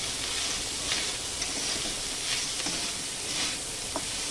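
Ingredients for basanti pulao frying together in a pan make a steady, fairly soft sizzle with occasional faint stirring clicks, no voices.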